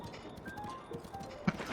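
Horse hooves clip-clop steadily in the video game Zelda: Breath of the Wild, a soft rhythmic trot sitting low in the mix under faint game sounds.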